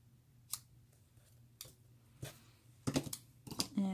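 Scissors trim ribbon ends on a handmade autumn birthday card, giving several sharp, close snips spaced irregularly against a quiet background.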